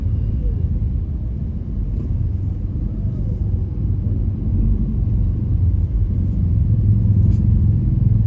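Steady, loud road traffic on a busy, congested street in Makassar, a continuous low engine rumble from cars and motorbikes close by, with no voices heard.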